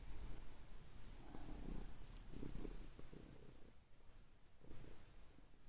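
A cat purring while it licks someone frenziedly: a low, steady, rumbling purr close to the microphone, pulsing gently and continuing throughout, with faint soft licking and rustling over it.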